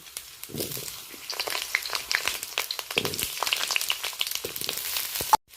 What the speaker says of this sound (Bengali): তেলটা বেশ গরম হয়ে গেছে। এই পর্যায়ে আমি আলুগুলো ভেজে নেব।